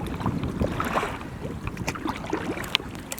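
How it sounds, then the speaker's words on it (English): A canoe or kayak paddled on a lake at Labrador Hollow in autumn: close, irregular splashes and drips of the paddle against water, mixed with light wind rustle on the microphone. "I'm gonna get paddling a little faster"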